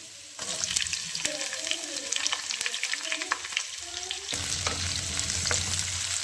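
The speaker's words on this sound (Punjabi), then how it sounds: "ਤੇ ਹੁਣ ਆਪਾਂ ਪਿਆਜ਼ਾਂ ਨੂੰ ਭੁੰਨਾਂਗੇ ਜੀ ਚੰਗੀ ਤਰ੍ਹਾਂ" Onions sizzle in a pan with ginger while a utensil stirs them, making a steady crackling fry with scraping strokes close by. The sizzle grows denser and louder toward the end.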